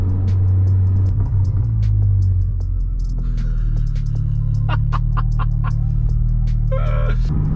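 A car's exhaust note from the tailpipe, a steady loud low drone with a slight wavering pitch, overlaid by clucking chickens and a few short, sharp clicks.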